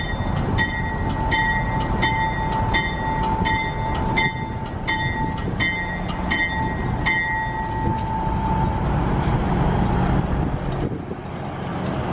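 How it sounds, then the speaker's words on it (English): A White Pass and Yukon Railroad train in Alaska idling loudly nearby with a rough engine rumble, overlaid by repeated high ringing tones that pulse steadily for several seconds before fading out. "So this is the White Pass and Yukon Railroad Fraser Meadows train."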